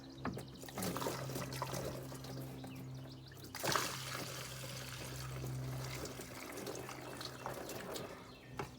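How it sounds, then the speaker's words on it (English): Windshield washer fluid being poured through a funnel into the radiator of a 2008 Dodge Sprinter van, a quiet, steady trickle and gurgle of liquid with a brief clatter partway through. "So let's go ahead and pour the formula in."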